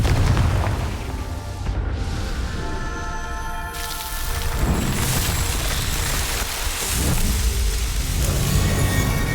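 Confringo blasting spell in the Hogwarts Legacy video game, loud booming explosive bursts with crackling debris and rumbling noise, several blasts across the clip with no talk.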